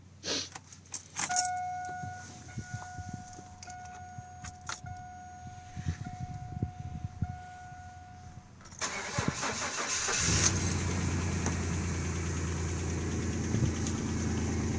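Keys jangle close by, then a 1999 Chevrolet S-10 Blazer with the 4.3 liter V6 and 187,000 miles cranks over and fires on a cold start, settling into a loud, steady idle.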